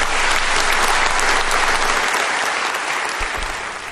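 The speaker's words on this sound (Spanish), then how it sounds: "Aquí todo el mundo aplaude" A large audience applauds loudly and continuously during a speech by Bolivian President Jeanine Áñez, a dense wash of clapping that fades slightly toward the end.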